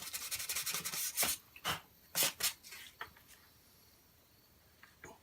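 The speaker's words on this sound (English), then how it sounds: "we'll give it a light sanding" Several short rasping strokes of sandpaper rubbing over wood, close and uneven, fading into a quiet pause with a couple of faint scuffs near the end.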